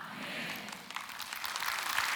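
A church congregation applauding during a testimony at a Friday prayer service: soft, diffuse clapping from a crowd, fairly faint and steady throughout, with no clear talking.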